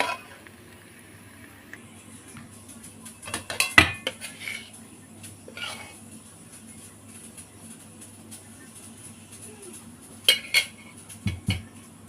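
Cooked vetkul leaf paste scraped from a pan onto a plate with a utensil, giving a few sharp metallic clinks and scrapes in short bursts with quiet gaps between, close by and without talk.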